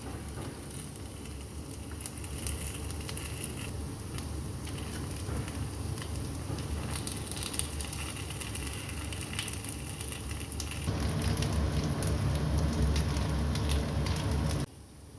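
Sago paniyaram fry in a covered pan over a medium flame, giving a steady, soft sizzling hiss throughout, slightly louder toward the end before stopping abruptly.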